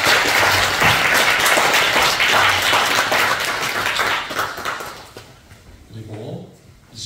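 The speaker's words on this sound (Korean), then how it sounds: "박수를 해주시면 감사합니다." A congregation at a Korean church ordination thanksgiving service applauds, a loud, sustained wash of many clapping hands that gradually thins and fades toward the end.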